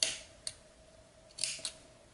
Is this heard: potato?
no